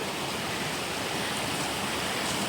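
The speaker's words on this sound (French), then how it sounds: "On est arrivé à la cascade du saut du loup." Steady, dense rush of falling water from the Saut du Loup waterfall near Mont-Dore, a continuous broadband roar heard close and alone without voices.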